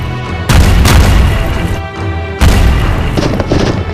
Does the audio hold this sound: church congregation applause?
no